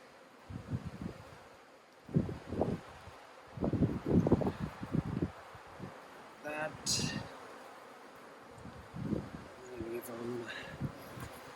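Honey bees buzz around a honey frame lifted from a hive during early-summer queen prep and splits, a faint steady hum beneath intermittent close talking.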